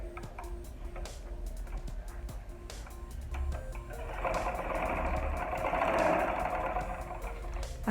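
A sewing machine stitches two pieces of fabric together, right side to right side, with a quiet rapid mechanical ticking that swells into a louder, steady whirring run partway through.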